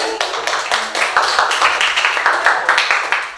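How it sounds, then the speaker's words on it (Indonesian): A classroom group claps for a student in a rhythmic, fairly loud and close series of handclaps, settling into a regular beat of about three claps per second. "tepuk tangan buat Aidi"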